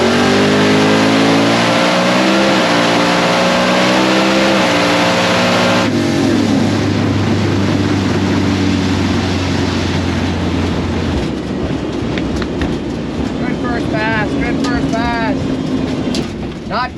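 A no-prep drag race car launches and accelerates hard down a greasy track, its engine roaring loud with rising, shifting revs, then fading toward a distant whine as other noise and voices mix in.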